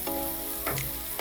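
Onions frying for spicy chicken fried rice give a short burst of steady sizzling in a hot pan, with a couple of brief scrapes of stirring and no talk.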